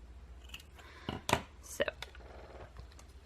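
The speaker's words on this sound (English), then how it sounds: "And cut it over here, and I'm just gonna cut off the sides." Scissors trim the sides off a small paper embellishment made with a diamond press, giving a few short, close snips and crisp paper sounds among quieter handling noises.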